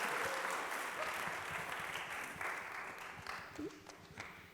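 Applause from a church congregation during a Sunday worship service, steady and fairly loud at first, then thinning and fading toward the end, with a few murmured voices underneath.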